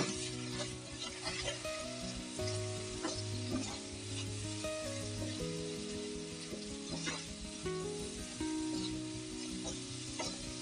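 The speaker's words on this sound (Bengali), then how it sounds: "আবার একটু পানি দিচ্ছি মশলাটা কাঁচা বন্ধ চলে যাওয়ার জন্য" A second splash of water hits spices in mustard oil, and the pan keeps up a continuous close sizzle with steady stirring and scraping. Background music runs underneath.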